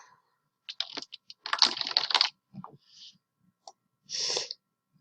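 Bursts of typing on a computer keyboard on a Windows PC, with quick clusters of close, crisp key clicks separated by short pauses, fairly quiet and alone without talk.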